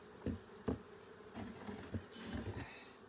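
A swarm of wild honeybees buzzes close by, a faint, wavering hum broken by several louder passes of individual bees.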